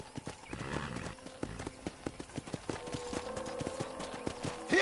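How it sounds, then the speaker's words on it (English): Horse hooves clip-clop in a steady rhythm in Red Dead Redemption, close and fairly loud, with a brief whinny and a faint ranch background. "let's see if you can still ride a horse"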